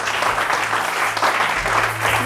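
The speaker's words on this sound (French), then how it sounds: "Les saints acclament le Seigneur de grâce." A church congregation applauds at the close of a French-language worship service, steady dense clapping filling the room for the whole stretch, with no pauses and no voices standing out.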